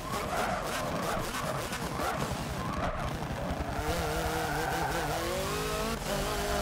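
A race car in Forza Motorsport 7, a steady loud engine drone with tire skidding and squeal, shifting into a rising revving tone toward the end.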